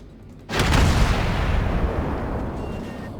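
A warship's main gun fires in the naval combat game World of Warships, one sudden heavy boom that rolls on in a long, fading rumble.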